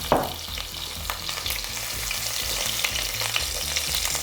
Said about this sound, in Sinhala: තෙල් ටික රත් වෙනකොට තලාගත් ඉඟුරු සුදු ලුණු සේර කෑල්ල මම එකතු කරා.